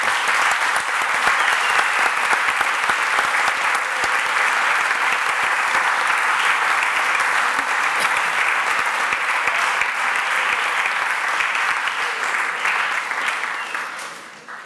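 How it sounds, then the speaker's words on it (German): Sustained, loud applause from an audience at a fifth-anniversary event of the Wetzikon parliament, dense clapping that continues evenly for over ten seconds before tapering off at the end. "Mal ganz einen herzlichen Applaus für all die."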